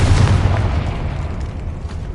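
A Confringo fire spell exploding in the Hogwarts Legacy video game: one heavy low boom at the start, then a rumbling tail that slowly fades, with no speech over it.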